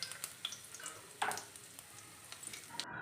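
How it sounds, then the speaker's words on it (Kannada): Crushed garlic added to a hot-oil tempering with curry leaves and dried red chilies for a jackfruit curry: a faint, close sizzle with light scattered crackles. "ಜಜ್ಜಿದಂತಹ ಬೆಳ್ಳುಳ್ಳಿನ ಹಾಕ್ತಾ ಇದ್ದೀನಿ."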